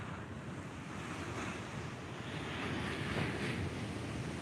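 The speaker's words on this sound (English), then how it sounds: "And some nice waves breaking through as well." Ocean waves break at Fingal Head in a continuous roar of surf, swelling slightly louder toward the end, with wind buffeting the microphone and no talking.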